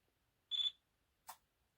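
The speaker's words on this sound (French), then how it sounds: "on a entendu le bip bip du bind" Two short electronic beeps as an ERA RC Bell 206 helicopter binds to a TX16s radio, the first a sustained high tone and the second a brief chirp, in an otherwise quiet room.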